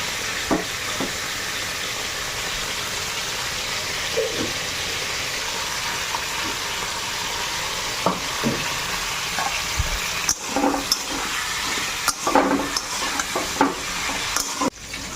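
Potato and cauliflower pieces frying in a pan, a steady soft sizzle with intermittent scraping and stirring clatter, louder knocks toward the end, no voices.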